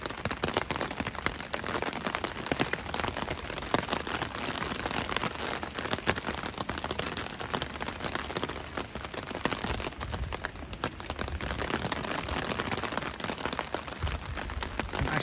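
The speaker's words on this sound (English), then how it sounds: "Gosh, it's really raining." Steady, dense rain patters on a hard surface close by, a constant hiss with no voices, falling on moored boats along the Levantkade canal in Amsterdam.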